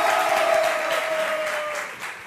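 An audience at a French comedy show applauds a performer: a broad, even burst of clapping from many people, fading slightly over two seconds, with a brief tone sounding underneath.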